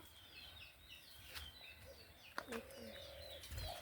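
Faint, scattered bird chirps and tweets over a quiet background, with a few soft clicks and a brief louder knock near the end.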